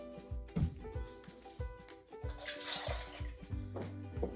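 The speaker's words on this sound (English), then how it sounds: "you would fill up each one with water, pour it in there" Water poured by hand into a graduated measuring jug marked in millilitres, giving a steady, close liquid splashing and trickling with a few brief gurgles, no talking.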